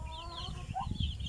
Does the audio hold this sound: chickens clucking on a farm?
yes